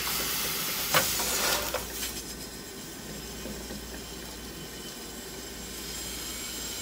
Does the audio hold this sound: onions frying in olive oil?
yes